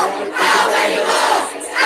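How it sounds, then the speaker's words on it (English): A protest crowd chants loudly in unison at a vigil gathering, a dense, roaring mass of voices that swells and dips briefly. "The crowd is chanting."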